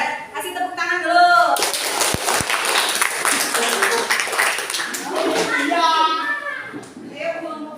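Classroom children clap together for group one: a loud burst of dense applause lasting about five seconds, framed by children talking before and after.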